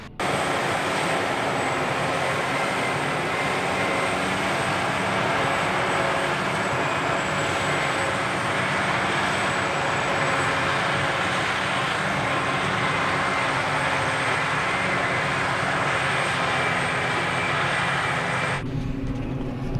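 A John Deere 8520 tractor pulling a Krone TX 560 forage wagon during a grass harvest, its engine a loud, steady drone that holds throughout at close range before cutting off abruptly near the end.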